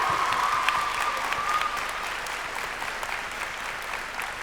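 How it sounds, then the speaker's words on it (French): A large crowd at a Japan Expo conference hall applauds in a thick, sustained wash of clapping that stays loud and steady, with a faint high tone near the start. "Oui, applaudissez"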